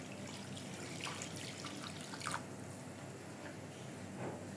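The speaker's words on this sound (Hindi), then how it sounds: "सबसे पहले हम डाल लेंगे पानी।" Water trickles and dribbles into a pan for sugar syrup while jalebi is being made, a faint, steady pour with a few brief splashy bursts and no talking.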